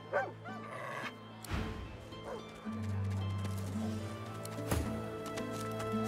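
A dog with raised hackles gives low, uneasy barks and whimpers in the Divinity 2 video game, under game music and spoken dialogue.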